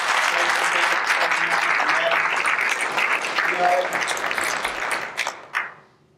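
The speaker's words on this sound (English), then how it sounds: "let's have another round of applause for the presenters" Audience applause rings out for the presenters at a community recognition event, steady and full for about five seconds before tapering off, with a voice speaking briefly over it.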